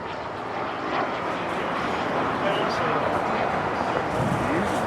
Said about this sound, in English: it's known as the T1 Rockstar in yellow and black livery, flown by Tom Basilio, right in front of me here, doing a beautiful aileron roll